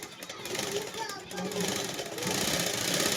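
Sewing machine running steadily as it stitches fabric, a continuous close mechanical whir that picks up toward the end, with faint voices in the background.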